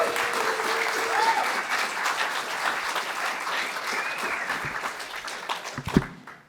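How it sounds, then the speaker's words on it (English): Sustained audience applause for a conference speaker, steady broadband clapping from a crowd lasting several seconds before tapering off, with a brief faint voice near the end. "please give a big round of applause to Sasha, Czarkwoski,"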